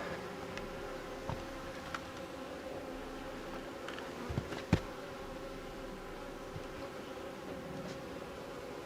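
Honeybees hum steadily around an opened hive during an inspection a few days after a split, a constant close drone with a few faint clicks and taps.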